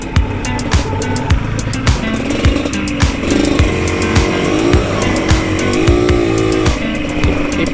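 Cars and motorbikes stream past on a busy road, engines rising and falling as each vehicle goes by close at hand, with steady traffic hum between passes.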